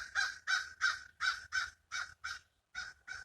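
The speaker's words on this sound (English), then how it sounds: "We have lots of birds, lots of animals." Several crows give a run of harsh, evenly spaced caws outdoors, about nine calls with a brief pause near the end, moderately far and fairly quiet, with no voices.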